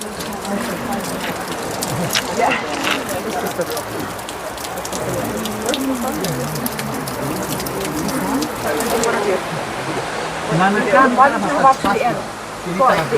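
Spray from Lauterbrunnen's waterfall in Switzerland patters down like steady rain, a dense hiss of drops that continues throughout, with voices heard faintly beneath it.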